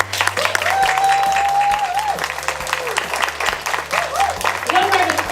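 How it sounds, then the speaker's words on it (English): A room applauds young writers standing for recognition at a county writing workshop, steady clapping over a hum of music or voices with tonal lines weaving through. "Round of applause."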